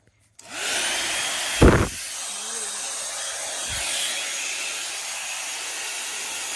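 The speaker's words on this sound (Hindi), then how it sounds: "अभी जोना को ड्रायर से सुखाती हूँ" A hair dryer switches on and runs as a steady loud whooshing roar while drying a dog after its bath, broken once by a short thump near the start and a brief low knock later.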